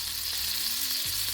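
Butter sizzling in a hot pan, a continuous bright hiss that stays steady throughout the short moment, with no talking.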